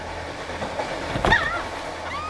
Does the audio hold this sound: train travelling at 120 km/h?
yes